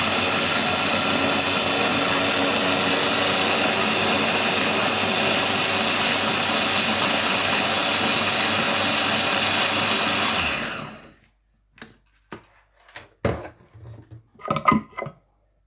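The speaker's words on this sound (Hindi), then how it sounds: "अभी इसको एक दफ़ा फिर मैं चॉपर में डालकर अच्छी तरह से ग्राइंड कर।" An electric chopper grinds green chilli, garlic and vinegar into sauce with a loud, steady motor whine for about ten seconds, then stops, followed by a few clattering knocks of the container.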